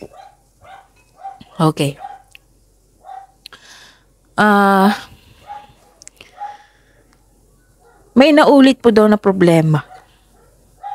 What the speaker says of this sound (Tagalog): Pasensya na po sa ingay Maingay po ang aso namin.